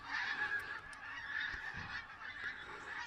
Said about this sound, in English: Migrating birds. How amazing is that? There's absolutely thousands of them.